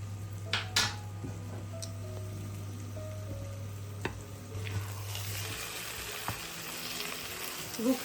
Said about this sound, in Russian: Лук наш уже начал схватываться, уже карамелизируется.